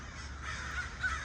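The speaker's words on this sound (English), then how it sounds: "Look at this bird right here. So much bird." Crows cawing outdoors at around 5 p.m., a steady flock of harsh calls over continuous background noise, with no talk.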